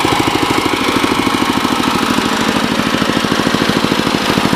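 A Bolens 1050 garden tractor engine runs close and loud with a steady, rapid chugging beat that stays even throughout, with no talk over it.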